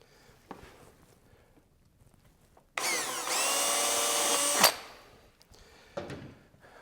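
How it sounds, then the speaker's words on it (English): A power drill whirs loudly for about two seconds as it bores a hole while fitting a high fender kit to a Ducati Desert X motorcycle, preceded and followed by quiet handling knocks. "So the bit is on a bit of an angle when you go to drill this."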